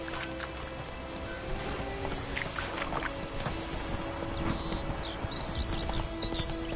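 Horse hooves clip-clop steadily in The Witcher 3 on PlayStation 4, a continuous rhythmic trot close by, with creaking and faint ambient chirps mixed in.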